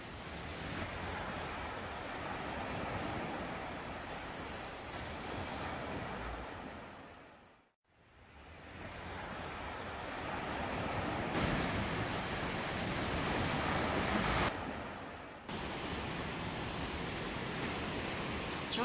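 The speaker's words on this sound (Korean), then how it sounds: "짙푸른 바다를 보면서 파도 소리를 들으며 걷는 이 길이 어찌나 좋은지요" Ocean waves wash steadily along a coastal walking path by deep blue sea, a broad continuous rush with wind noise that surges and drops away briefly before returning.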